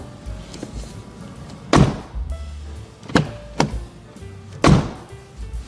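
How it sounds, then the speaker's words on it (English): A newly soundproofed camper van conversion's door is worked several times, with sharp slams and latch clunks at irregular intervals and quieter handle and seal sounds between them, close and loud. "Would you like to open and close the door once"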